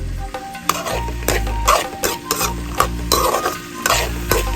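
Long beans (achinga payar) stirred in a frying pan, a quick run of loud scraping strokes over a continuous sizzle with a low hum beneath, close and without speech.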